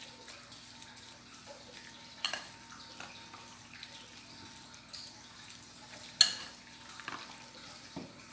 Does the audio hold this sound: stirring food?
yes